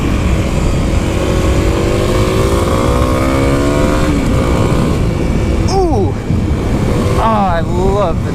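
A 2021 Kawasaki KLX300 dual-sport motorcycle's single-cylinder engine pulls hard after a downshift, revving upward with a rising buzz under steady wind noise while riding, and a rider's voice is heard faintly over it.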